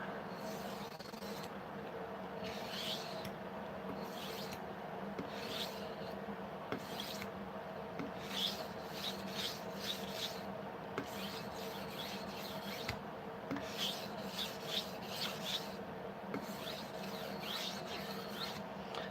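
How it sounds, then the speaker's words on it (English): Knife drawn along a sharpening stone over the full blade length, a quiet repeated rasping scrape in steady strokes, close and alone. "what you want to do when you sharpen it is go the entire length of the blade, entire length of the stone"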